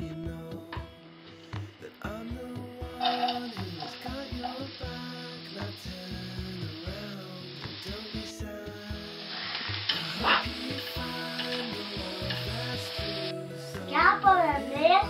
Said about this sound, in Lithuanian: Kepame mėsą.